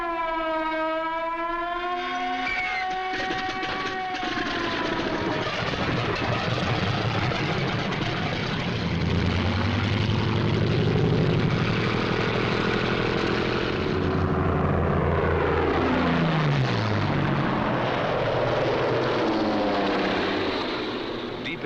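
WWII fighter aircraft, Messerschmitt 109s and Focke-Wulf 190s, heard in old wartime film as loud, droning piston engines that rise and fall as the planes pass, with a wavering siren-like whine at the start and a narrator speaking throughout.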